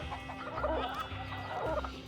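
Cartoonish chicken clucking from the Avatar World game, two short bursts of clucks about a second apart over a low steady hum, fairly quiet and without speech.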